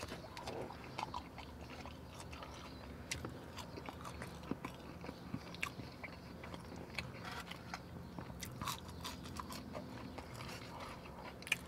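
Chili cheese fries being chewed inside a car: soft, close, steady chewing and biting with occasional small crunches, low in level against a quiet background.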